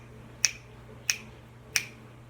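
Three crisp finger snaps land evenly about two-thirds of a second apart, close and fairly quiet, keeping a steady beat over a faint background hum with no voices.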